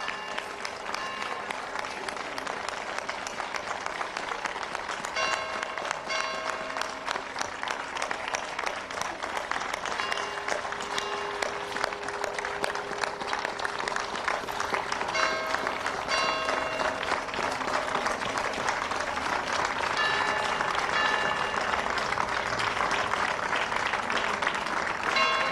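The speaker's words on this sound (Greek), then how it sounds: "Ήδη ακούς το χειροκρότημα." Sustained applause from a theatre audience, dense steady clapping that holds for the whole stretch and swells slightly toward the end, with a faint voice underneath.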